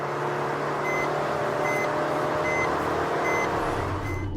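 Speed warning chime in a Maruti Suzuki Ciaz sounds as a faint, regular beep repeating about every 0.7 seconds beneath loud, steady road and engine noise inside the moving car.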